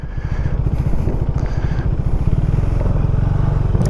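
A motorcycle engine runs loud and close, its rapid pulsing beat holding steady as the rider gives it gas, with no voices over it.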